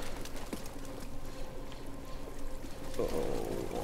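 Water pouring in the video game Jedi: Fallen Order, a steady splashing flow that grows louder and fuller in the last second, with faint game ambience beneath.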